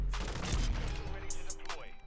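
A sniper rifle shot in the Modern Warfare 2 video game, a sharp loud crack opening the clip followed by a decaying report and scattered game effects.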